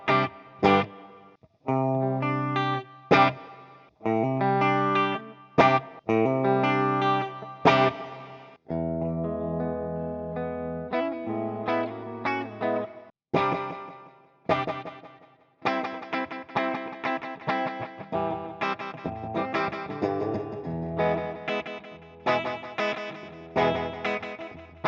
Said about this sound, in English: And the delays and the reverbs, well, let's just say we listen and we don't judge.